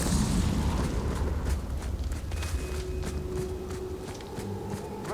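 A Confringo fire spell bursts in Hogwarts Legacy with a heavy boom at the start, then rumbling debris and scattered crackles that settle into a lower roar with quick footstep-like taps.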